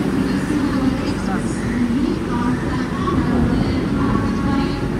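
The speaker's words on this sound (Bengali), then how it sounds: "1261 CSMT হাওড়া দুরন্ত এক্সপ্রেস একদম কারেক্ট টাইমে 18 নম্বর প্ল্যাটফর্ম থেকে ছেড়েছে।" The Mumbai–Howrah Duronto Express pulls out of platform 18 at Mumbai CSMT station with a continuous, even rumble of rolling wheels and carriages, and voices murmur faintly under the noise.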